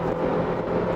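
A Chevrolet Equinox accelerates hard on kickdown, heard from inside the cabin as a steady, loud engine and road drone.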